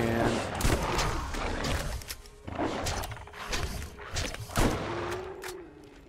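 Shotgun blasts in the video game Borderlands, several booming shots spread through a dense, loud battle mix of thuds and impacts, with a voice faintly present beneath the action.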